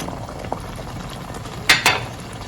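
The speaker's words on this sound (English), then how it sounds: "I'll go ahead and stir everything in" Beef stew with a stock cube and beef stock simmers in a pot with a soft, constant bubbling hiss, broken near the end by two quick, sharp clinks of a spoon stirring against the pot.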